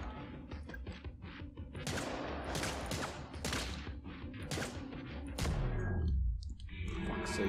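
Rapid gunfire in the game Get Even, a string of sharp cracking shots with metallic ringing tails over several seconds, closing with a heavier burst and a descending mechanical whine.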